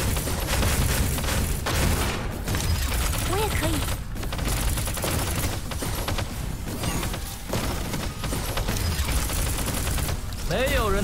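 Rapid gunfire and booming shots in the Punishing Gray Raven action game, dense continuous bursts layered over music with a character's voice speaking throughout.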